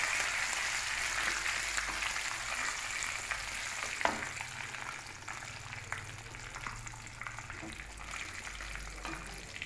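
Onions frying in a pan with dried red chillies and curry leaves, a steady broadband sizzle running throughout with soft stirring clicks and a faint low hum underneath.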